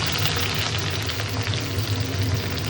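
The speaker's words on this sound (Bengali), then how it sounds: "পেঁয়াজ ভাজা মোটামুটি হয়ে গেলে" Onions frying in a pan with whole spices for a Bengali chicken curry give a loud, continuous close sizzle with faint stirring scrapes, and no talk.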